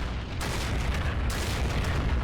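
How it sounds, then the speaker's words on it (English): Artillery in a video game battle thunders in heavy, close booms, two broad blasts rolling over a constant low rumble of battlefield noise. "Artillery keeping cover and fire there."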